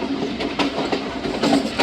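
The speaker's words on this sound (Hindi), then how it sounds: "आखिरी कोच है तो आखिरी कोच काफ़ी ज़्यादा जंपिंग भी करता है।" The last coach of the Thal Express climbing a grade, a loud close rumble of the running train with rhythmic clattering knocks and jolts from the bouncing carriage on the track.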